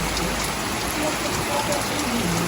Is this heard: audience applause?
no